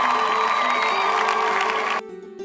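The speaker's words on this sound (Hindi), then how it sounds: "गांव वाले खुशी से चिल्लाए।" A crowd of villagers cheers and whoops happily together, a dense bright burst of joyful shouting that stops abruptly after about two seconds.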